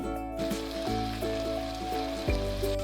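Cauliflower frying with potato and onion in a pan over medium heat gives a steady, even sizzle that hisses on throughout, with a faint hum running underneath.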